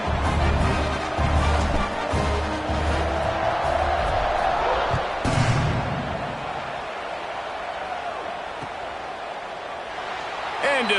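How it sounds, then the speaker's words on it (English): A football stadium crowd buzzes after a touchdown, a loud, dense roar with scattered cheers that gradually settles into a softer murmur. "this crowd is buzzing after that last score"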